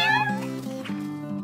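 A cartoon cat meows in a bright, rising cry at the start, followed by sustained musical tones underneath, with no speech.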